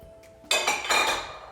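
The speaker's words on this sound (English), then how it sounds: "I'm going to dump the vegetables into the paste" Chopped carrot and daikon tipped into kimchi paste in an aluminum pan, two quick clattering thumps of vegetables hitting metal, close and fairly loud, with no talking.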